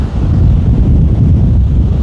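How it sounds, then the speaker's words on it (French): Wind blows hard outdoors straight into the microphone, a loud, constant low buffeting rumble with no voices. "Bon, le vent c'est très agréable hein, sur le corps."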